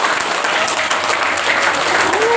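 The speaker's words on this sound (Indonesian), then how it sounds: "boleh kasih tepuk tangan untuk Pak." A school anniversary gathering in Buleleng applauds an official, a loud, dense wash of clapping from a sizeable crowd that stays steady throughout, with a faint voice or tone slipping through near the end.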